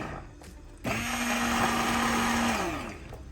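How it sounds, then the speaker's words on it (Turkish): A food processor whirs loudly as it blends fig jam, a steady motor drone with a pitched hum that starts abruptly, holds for about two seconds, then winds down. "Bu şekilde rondona geçireceğim."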